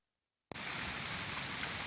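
Heavy rain starts abruptly and pours as a loud, dense, steady hiss close by, with no voices.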